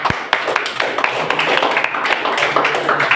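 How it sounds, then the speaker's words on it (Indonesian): Students in a classroom clap together in a dense, steady burst of applause lasting a few seconds, close and loud, with a voice or two faintly mixed in. "Ya, beri aplaus untuk yang sudah"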